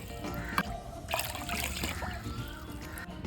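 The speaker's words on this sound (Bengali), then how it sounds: "এবার আমি জল দেবো তিন বাটি জল দেব" Water is poured over sugar in a pot on a stove to make a thin syrup for langcha, a steady trickling, splashing pour that runs close by throughout with a few louder splatters.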